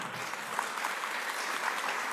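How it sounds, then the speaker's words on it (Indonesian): An audience applauds during a seminar talk on usury: a continuous, even wash of many hands clapping at once, moderately loud, with no voices over it. "Nah, boleh tepuk tangan lah biar rame ya."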